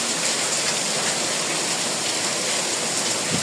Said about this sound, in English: Rainy day, my people.